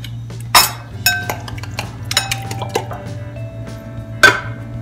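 A spoon clinks and scrapes against a bowl while all-purpose cream is stirred for eggplant rolls, with several sharp metallic taps over a steady low hum and soft wet squishing.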